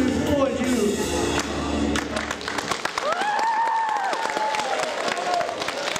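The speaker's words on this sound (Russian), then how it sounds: "Аплодисменты" Audience applause after a live song, a steady dense wash of clapping with crowd noise throughout; a voice rises briefly over it near the middle.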